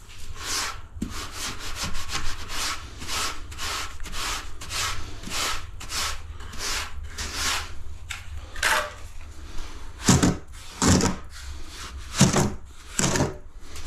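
Straight length of timber dragged back as a screed across sand-and-cement floor mud in a bathroom, a run of rough scraping strokes with harsher, louder pulls toward the end, close up and with no talk.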